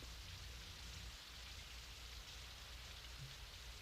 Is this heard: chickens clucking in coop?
no